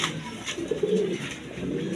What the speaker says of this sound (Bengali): আর বিভিন্ন বিটের কবুতর আছে দেখেন, ইম্পোর্টের বিউটি আছে